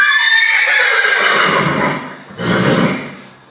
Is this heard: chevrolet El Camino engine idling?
no